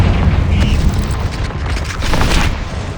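A Confringo fire spell going off in Hogwarts Legacy, a loud sustained booming blast with crackling bursts filling the whole moment, close and continuous without a clear pause.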